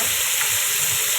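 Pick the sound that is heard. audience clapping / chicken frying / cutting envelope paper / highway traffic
chicken frying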